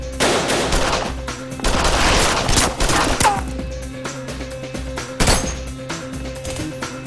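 Loud bursts of gunfire ring out in rapid volleys of close, sharp shots, with clusters of repeated cracks separated by brief lulls, in a dramatic action scene.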